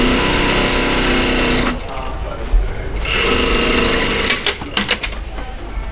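A sewing machine stitching the side seams of a blouse, a loud steady motor whir that pauses briefly twice and restarts, with short bursts near the end.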